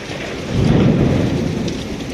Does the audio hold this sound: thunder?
yes